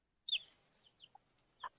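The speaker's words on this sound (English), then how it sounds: "A baby chicken, a chick." A tiny baby chick, a few days old, gives a few short, high cheeps separated by brief pauses, close by and fairly soft, with no talking.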